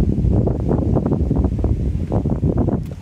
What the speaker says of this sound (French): Tu le vois ce vent là? Tu le vois ce vent?